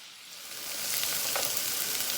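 Tofu fries in a pan for pad thai, a steady close sizzle and crackle that grows a little louder and denser as it goes, with no talking.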